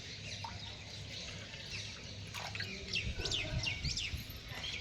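Parrots gather near a drinking spot, giving scattered high chirps and short squawks at moderate distance over a low outdoor hum, with no talking.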